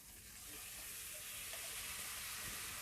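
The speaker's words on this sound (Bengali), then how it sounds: "দিয়ে এটাকে ভালো করে ভাজা ভাজা করবেন।" Potatoes fry in a pan with a splash of water for a vegetarian aloo dum, giving a soft, steady sizzling hiss that stays faint and even throughout.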